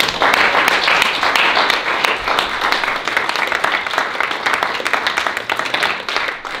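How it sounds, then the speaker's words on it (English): A round of applause from an audience at a Las Vegas retreat, loud, close clapping with sharp individual claps standing out, continuous throughout and thinning slightly toward the end. "give a round of applause to yourselves"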